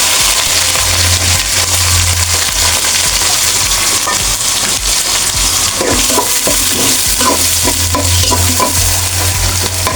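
Onion and green chili hit hot oil already holding cardamom, black cardamom, cinnamon and bay leaf for bhuna khichuri, with a loud, dense sizzle up close and a run of clattering stirs later on.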